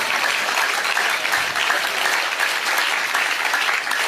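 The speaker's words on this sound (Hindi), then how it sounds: "तालियां थाने ज्यादा बजानी चाहिए।" Audience clapping at a Kavi Sammelan poetry recital in Jaipur, steady, dense applause from a large crowd, continuous and even throughout.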